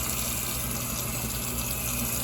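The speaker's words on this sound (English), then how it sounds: "So I had to wash this out really quick." Running tap water pours steadily over a greasy cooking pot being washed out, a continuous close, even rush of water with no voices.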